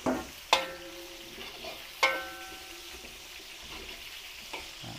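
Onions for a Filipino pancit are stirred in a hot pan. A few sharp utensil scrapes and clinks stand out over a soft, steady sizzle.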